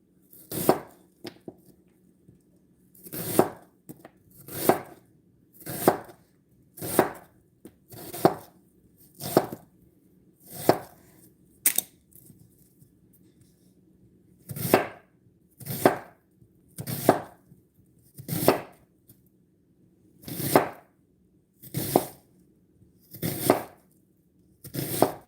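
A large onion being sliced with a knife on a cutting board, about twenty steady, close chopping strokes in an even rhythm with short pauses, no talking.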